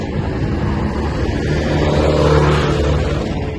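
Steady traffic on Aguinaldo Highway, a continuous loud engine rumble and road roar from passing cars that swells slightly midway, with no voices.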